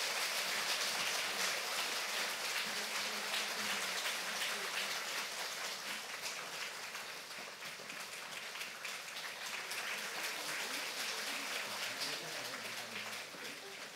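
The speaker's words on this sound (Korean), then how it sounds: "우리 전달할 때 큰 박수로 격려해 주시면 감사하겠습니다" A church congregation applauds scholarship recipients during a Sunday worship service, a sustained, even patter of many hands clapping at moderate distance that tapers slightly toward the end.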